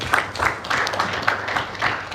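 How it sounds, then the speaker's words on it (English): A small audience at a youth leadership forum in Dar es Salaam claps to welcome an arriving visitor, a scattered, steady patter of hands lasting a couple of seconds without talk. "Clap for our visitor who has just arrived"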